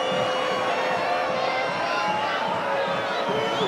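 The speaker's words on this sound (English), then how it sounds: "He's got a jeering, baying Wigan crowd behind him." Wigan Warriors rugby league crowd jeering and baying at a kicker lining up a sideline conversion, a steady, broad wall of crowd noise at a distance, unbroken throughout.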